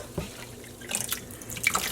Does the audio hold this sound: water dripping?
yes